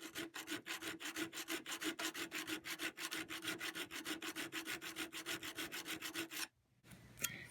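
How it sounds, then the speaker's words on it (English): A coarse hand file rasps across the metal of a Dead On Tools Exhumer 8 in a fast, even rhythm of dozens of scraping strokes. The strokes are quiet and close, then stop abruptly. "we take a coarse file and we're going to try and file this down a little bit"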